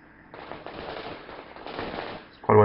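Rapid gunfire in the military shooter Project Reality, a steady crackling stream of shots lasting a couple of seconds, fairly loud and dense, ending in a sudden louder burst.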